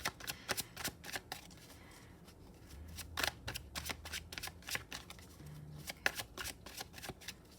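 A deck of tarot cards being shuffled up close, producing repeated crisp riffling bursts and flicks in an uneven rhythm, with a faint low hum underneath and no speech.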